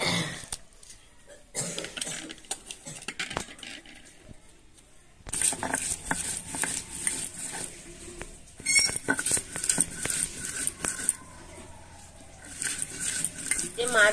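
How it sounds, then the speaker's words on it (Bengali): Onion tossed into a pan and stirred while making rohu fish kofta curry in a village kitchen, with clattering utensil scrapes and a crackling patter that grows louder once the onion goes in. "এবার পেঁয়াজটা মারবো।"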